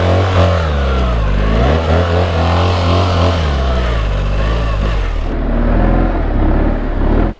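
A motorcycle engine revs loud and close in the desert, its pitch rising and falling in sustained throttle blips, then cuts off abruptly at the end.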